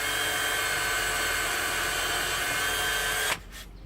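A high-pitched power drill with a 1.5 mm bit whines steadily and close while drilling a pilot hole for a screw, then stops abruptly, leaving near silence.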